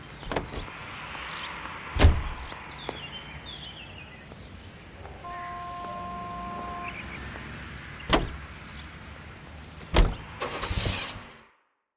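Car being driven in L.A. Noire, a steady engine and road hum throughout, punctuated by several sharp door-like clunks and thuds, with a faint brief tone partway through before the sound cuts out.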